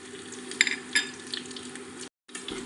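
Green and dried red chillies frying in hot oil in a pan, a dense close crackling sizzle with a couple of sharp spoon taps and a brief break before the frying resumes.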